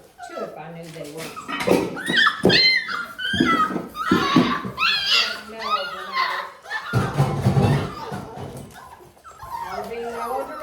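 Bullmastiff puppies cry and scream before a feeding, a loud overlapping chorus of high whines, yelps and whimpers that rises and falls without pause, close to the listener.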